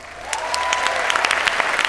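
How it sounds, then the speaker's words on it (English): Audience applause from a large crowd at a talk about the Great American Eclipse, a dense steady patter of many hands clapping throughout at a fairly constant level. "applause or clap if you remember the Great American Eclipse last year."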